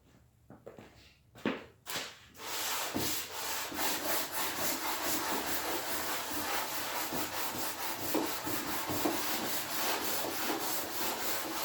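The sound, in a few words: sanding wood with a piece of 2x4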